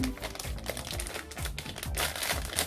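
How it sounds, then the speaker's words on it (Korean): Large plastic wrapping torn off a treasure-dig toy package, giving a steady close crinkling and ripping rustle with brief pulls throughout. "여기 큰 비닐 떼주세요"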